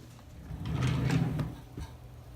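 A makeup drawer slides open with a smooth rolling scrape lasting about a second, then a soft bump as it stops.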